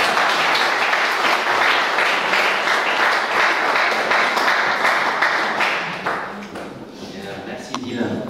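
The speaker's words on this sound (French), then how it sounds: "Est-ce qu'on peut applaudir?" Church congregation applauding together, a loud, dense wash of clapping that holds steady for about six seconds, then thins out and fades, with some voices and a few scattered claps at the end.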